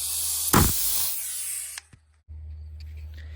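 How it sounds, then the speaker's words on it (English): A Harbor Freight rivet gun sets a rivet with a loud pneumatic hiss and one sharp snap, then falls quiet before a low, steady hum and faint hiss resume. "this rivet gun, the Harbor Freight Special"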